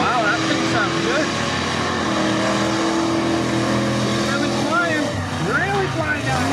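A mega truck roars down a dirt drag-racing track in an off-road event, its loud engine droning steadily and close, with an announcer talking over the noise.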